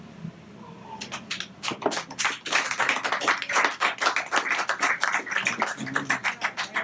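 At a poetry book launch in a bar and museum, a small audience claps after a poem. Scattered, uneven hand claps build quickly and stay fairly close, then thin out toward the end.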